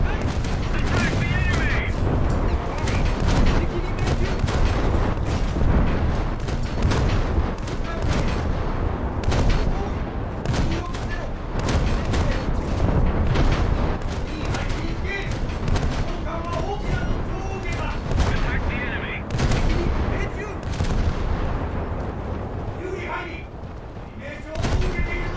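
Dense, continuous naval gunfire from warship battle game combat, broadside shots against a Frank Knox destroyer, with repeated booming salvos and sharp cracks piling up over steady rumble, while someone talks over it throughout.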